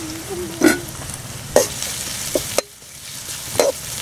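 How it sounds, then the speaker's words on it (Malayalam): Onions frying with salt in a pan for a clam meat fry, a steady low sizzle under a few distinct scraping stirs of a spoon against the pan. "ഇതിനൊക്കെയുള്ള കുറച്ച് ഉപ്പ് ഇട്ട് കഴിഞ്ഞാൽ സവാള പെട്ടെന്ന് വാടിക്കിട്ടു."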